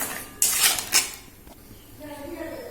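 A lid clatters onto a cooking pot of pointed gourd being cooked with turmeric and salt, giving a couple of sharp metallic knocks close by, then a quiet kitchen background.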